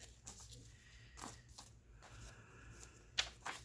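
Journal pages flip and rustle in a quiet room, a few soft paper turns followed by two sharper crisp flicks near the end.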